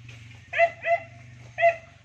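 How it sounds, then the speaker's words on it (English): A dog barks in three short yipping bursts, two close together and one after a pause, over a steady low hum at a house in Boljoon, Cebu. "By the way, my dog is very noisy right now."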